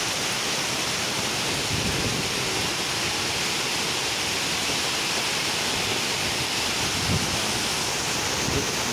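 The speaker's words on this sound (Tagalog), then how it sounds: "Malakas-lakas to mga par, yung hangin saka yung ulan." Heavy rain pours down amid strong wind in a steady, dense, unbroken roar that stays at the same loudness throughout, with no voices.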